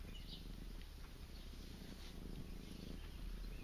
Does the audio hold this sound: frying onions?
no